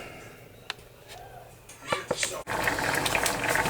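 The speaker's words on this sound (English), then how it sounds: "As you can see, it's boiling nice" Apricot and chili chutney with a dash of whisky bubbles in a pot, a steady boiling hiss and intermittent pops that swell louder partway through, with faint talk underneath.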